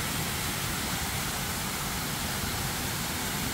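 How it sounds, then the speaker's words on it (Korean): Flowing water at a resort in Jeju, near what seems to be a pool, makes a soft, steady hiss of rushing water, constant and even throughout, with no voices over it. "아, 여기서 물소리 나는 거였구나."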